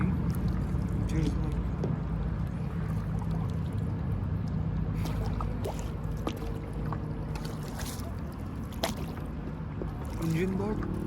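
A motorboat passes on the Vistula River in Kraków, heard from a paddle board close by as a steady low engine rumble with water lapping and trickling around the board, alongside faint speech.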